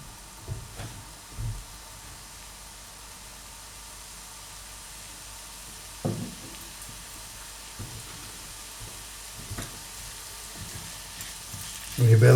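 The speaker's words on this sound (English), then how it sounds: "you'll be able to hear that lovely sizzling sound" Home-made bolognaise sauce frying in a pan, a soft steady sizzle and hiss with occasional louder stirring scrapes and clinks, close and fairly quiet, without talking.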